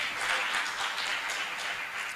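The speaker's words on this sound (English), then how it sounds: "A round of applause." Applause from a seated conference audience at a technology and security symposium, a steady broadband patter of many hands clapping together throughout, moderately loud and close, with no voices over it.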